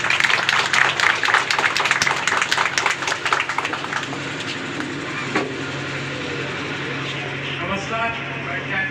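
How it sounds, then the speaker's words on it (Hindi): Applause from a crowd welcoming a speaker at an Independence Day (15 August) gathering at an inter college, with dense, loud clapping that thins out and fades into quieter background noise. "जोरदार ताली से स्वागत करेंगे।"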